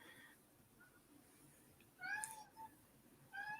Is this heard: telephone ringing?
no